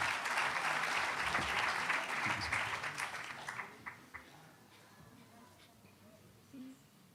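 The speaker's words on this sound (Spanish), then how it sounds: "los recibimos con un aplauso" Audience at an educational talk applauding to welcome speakers, dense clapping for a few seconds that thins into scattered claps and quiet room noise.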